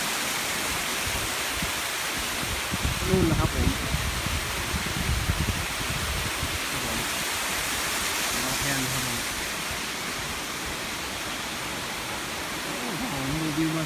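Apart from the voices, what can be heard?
waterfall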